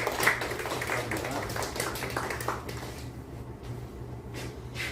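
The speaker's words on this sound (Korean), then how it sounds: "박수 한번 주시고요" A church congregation claps to celebrate a member's birthday, a steady wash of applause that fades partway through over a low humming tone.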